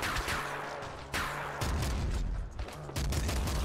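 Gunfire in the Nuclear Throne video game: bursts of sharp, rapid electronic shots repeating every second or so, fairly quiet and with no talk over them.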